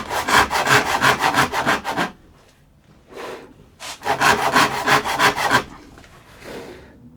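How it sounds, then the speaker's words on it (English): A hand saw cuts wood for a mitred half-lap joint in two bursts of rapid, rhythmic rasping strokes, close and loud, separated by quieter pauses and lighter scraping. "I clearly need to saw more on this side"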